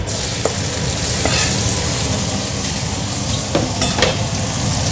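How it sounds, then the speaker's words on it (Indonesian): Garlic stir-fried in a generous amount of oil, giving a loud, dense sizzle that holds steady, with a few utensil scrapes against the pan and no one talking. "Aku mau numis ini. Bawang putih."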